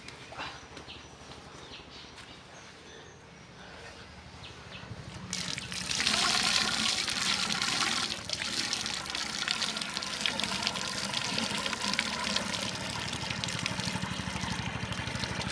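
Pumped water pours from a pipe into a bucket on a farm field; a quiet trickle swells into a loud, steady gushing stream that fills it.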